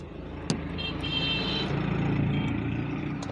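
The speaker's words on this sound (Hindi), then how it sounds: "देखिए अब मैं गाड़ी को स्टार्ट करने लगा हूँ।" A car engine cranks and turns over into a steady idle, with a sharp click at the start and a continuous low rumble throughout.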